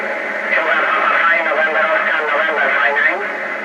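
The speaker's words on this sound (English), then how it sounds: "No AGC, expect distortion." Distorted shortwave single-sideband voice reception on an Eddystone EA12 receiver with AGC off, a garbled, muffled voice crackling steadily through a loud, overdriven radio without pause.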